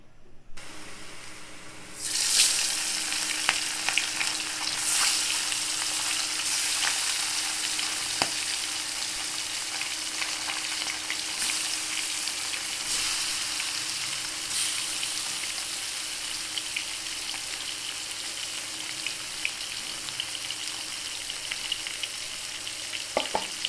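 Fish rubbed with turmeric, chilli and salt sizzles steadily in hot oil, a loud continuous crackling fry that starts after a quiet moment and carries on with occasional stirring clatter, no voices.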